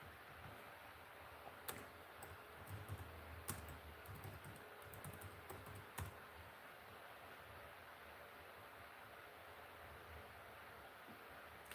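Faint keystrokes tap on a computer keyboard, a few scattered clicks over steady low room noise, then mostly quiet hum.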